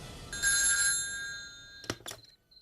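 A telephone bell rings in a police station at night, a loud tonal ring lasting about half a second, followed by a couple of brief sharp knocks as it cuts off into near silence.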